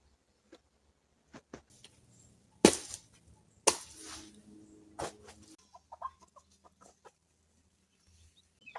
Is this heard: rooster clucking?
yes